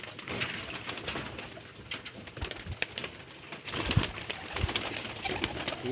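Domestic pigeons, one just let out of its coop, coo repeatedly at close range in soft, rolling calls, with scattered clicks and rustles around them.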